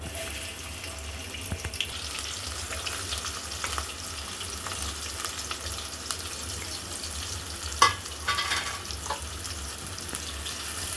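Ingredients for a one-kilogram batch of chicken curry softening in oil in a pan, giving a faint, even crackle with a few light clinks and a splashing moment partway through.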